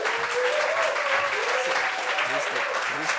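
Studio audience on a French talk show keeps applauding, a thick continuous clapping sound, while voices talk and exclaim over it.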